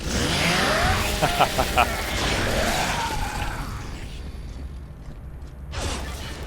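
Chainsaw attack in the video game Gears of War 3 Horde mode, a revving mechanical whine and grinding buzz under loud game effects, fading out before a brief whoosh near the end.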